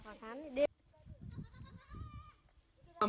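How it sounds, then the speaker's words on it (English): Goats in a desert village in India bleat in a loose run of wavering calls between two bursts of nearby talk. "Goats provide the main income from the village."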